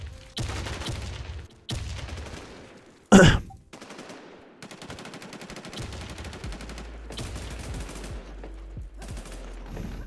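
Bursts of automatic gunfire in the shooter game Warz Deadzonez, fired at the player: loud, rapid volleys with gaps between them, one sharp heavy blast, then steady sustained shooting to the end.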